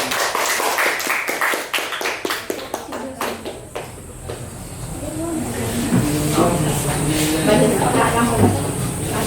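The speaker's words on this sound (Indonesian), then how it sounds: "kita beri aplaus dulu untuk kelompok 1" A classroom of students applauds for the first group, a brisk burst of clapping that thins out and gives way to a noisy room with voices and a faint steady hiss.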